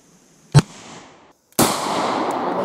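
Desert Eagle .41 Magnum pistol fired outdoors at a tree, one sharp loud crack followed by a short decay, then a second loud blast with a long sustained rumbling tail.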